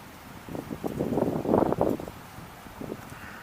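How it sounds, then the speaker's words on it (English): Wind buffets the microphone in uneven low gusts, swelling to a strong rumble in the middle before easing off. "A little bit windy."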